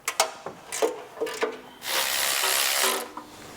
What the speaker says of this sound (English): Speaking of handy, a new ratchet.